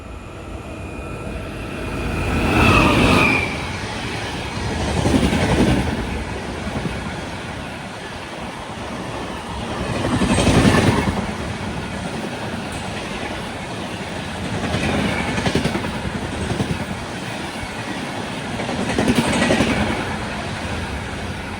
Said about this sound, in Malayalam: ഗാന്ധിധാമിൽ നിന്നും തിരുനെൽവേലിയിലേക്ക് പോകുന്ന ഹംസഫർ ഇതാ കടന്നു വരികയാണ്.